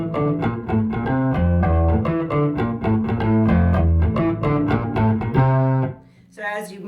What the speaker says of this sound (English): I would normally play that also with the Mesa on channel 1, which would sound like this.